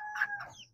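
A young bantam chicken, still without a comb, gives a short pair of clucking calls, close and fairly quiet, with nothing else around it.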